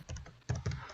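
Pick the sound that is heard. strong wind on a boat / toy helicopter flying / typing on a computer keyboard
typing on a computer keyboard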